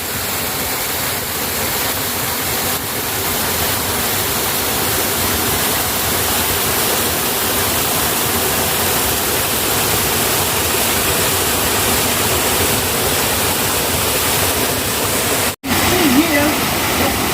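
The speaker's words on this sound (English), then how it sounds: "it's a luxury to have this waterfall and a stream with the water running down all the way into the village" A waterfall and stream run steadily down toward a village near Chwarta and Mawat, making a loud continuous rushing roar throughout with a brief dropout near the end.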